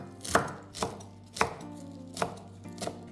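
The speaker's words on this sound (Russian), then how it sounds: "Очень крупно будем резать. Режете прям вот так вот крупно." A knife chops coarsely through a bunch of fresh herbs on a board, five firm, evenly spaced cuts close by with a faint hum underneath and no talking.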